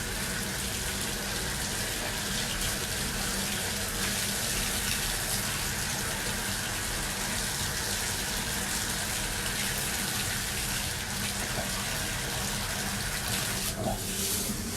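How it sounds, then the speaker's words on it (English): Water runs steadily from a tap in a continuous, loud gushing stream with no pauses. "we're going to turn our water on"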